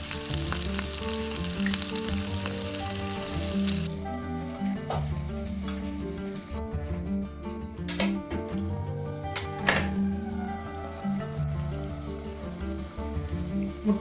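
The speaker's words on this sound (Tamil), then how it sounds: "முட்டை ஓரளவுக்கு ஃப்ரை ஆகிடுச்சு" Eggs fry in a pan over low heat, giving a steady, close sizzle with occasional utensil clicks and stirring taps throughout. No one speaks.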